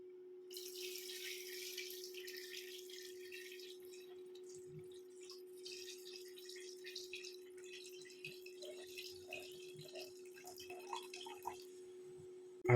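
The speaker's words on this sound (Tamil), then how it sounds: "நம்ம எடுத்து வச்சுருந்த தண்ணியை இப்போ இதில் ஊற்றிடுவோம்." Water poured from a container into a cooking pot of mutton biryani, a faint continuous trickle and splash with scattered drips, heard alone over a steady low hum.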